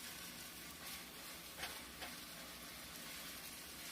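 Onions and garlic sizzle steadily in hot olive oil while being stirred, a soft, continuous crackling hiss with faint scraping touches throughout.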